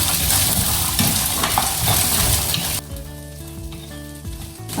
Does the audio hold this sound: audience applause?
no